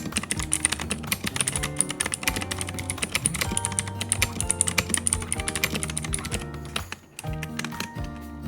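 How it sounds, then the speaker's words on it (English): A crystal mechanical keyboard with clicky switches is typed on continuously, producing dense, crisp clacks close up with a brief pause near the end and no talking. "I'm just gonna type on these clicky switches and let you hear how it sounds like first."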